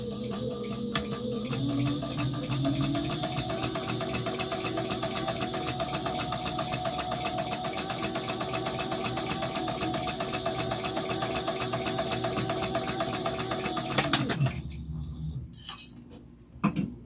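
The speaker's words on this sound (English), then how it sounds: "now we just stitch these down" A sewing machine runs continuously, stitching down tote bag fabric with a fast, even mechanical whir for about fourteen seconds, then stops, followed by a few small clicks and handling noises.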